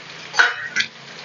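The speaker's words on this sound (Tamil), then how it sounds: "இந்த மாதிரி எண்ணெயில் வதக்கிட்டு செய்யுங்க." Pieces of quail sauté in hot oil in a pan, giving a soft sizzle with a couple of quick scraping stir sounds, short and close, with no voices.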